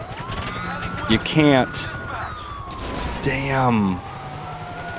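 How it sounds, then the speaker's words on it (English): A police car siren in a video game wails in a rising and falling sweep throughout, joined by brief bursts of other game noise, while someone talks over it. "I'm gonna shut off the sirens and lights in this."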